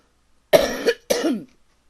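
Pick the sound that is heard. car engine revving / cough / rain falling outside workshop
cough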